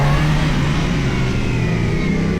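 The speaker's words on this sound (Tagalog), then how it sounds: "Pagkatapos nun, nilabas na namin yung kanya-kanya naming mga motor, pare." Motorcycle engine revving steadily out on a road, a loud continuous drone with a strong low hum that holds for about two seconds before cutting off abruptly.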